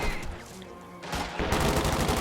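Bursts of machine gun fire crackle in Company of Heroes 2, a World War II strategy game, with rapid rattling volleys and a sharper, louder burst toward the end.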